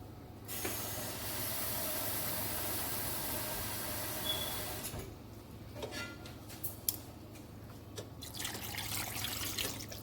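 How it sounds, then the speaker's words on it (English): Water pours steadily in a hissing stream into a cooking pot of chicken for pepper soup for about five seconds, then stops, followed by scattered light clinks and taps nearby. "So I'm going to add some couple of water into it."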